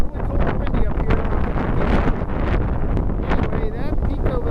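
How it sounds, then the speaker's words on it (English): Strong wind buffets the microphone on a cold mountain peak in Shenandoah National Park, a steady roaring rumble, with faint speech-like sounds mixed in beneath the gusts. "It's really cold and windy up here."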